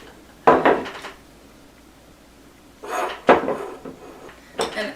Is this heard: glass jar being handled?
yes